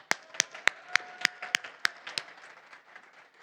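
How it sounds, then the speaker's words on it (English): Sharp, evenly spaced claps at a speaking event, about eight distinct hand claps in a steady rhythm that fade into soft room noise, sounding like a small number of people clapping rather than a full crowd. "Round of applause for Dr."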